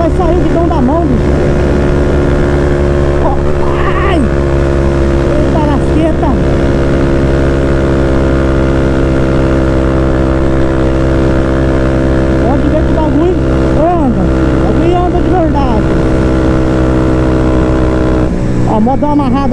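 A Honda CB 300 motorcycle engine runs flat out at about 200 km/h, a loud, steady high-revving drone with strong harmonics and wind roar throughout, with occasional pitch wavers.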